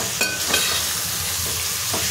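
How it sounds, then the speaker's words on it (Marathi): Washed prawns tossed into a pan of hot biryani masala sizzle loudly and close by, with a few quick stirring scrapes over a steady frying hiss. "ती कोळंबी टाकून घेऊया।"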